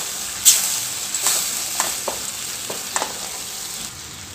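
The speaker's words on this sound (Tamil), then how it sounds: "இப்போ மசாலா எல்லாம் ஒன்று சேர நல்லா கலந்து கொடுத்துக்கலாம்" Soya masala gravy frying in a pan, stirred with a handful of sharp scraping strokes over a constant close sizzle, no talking.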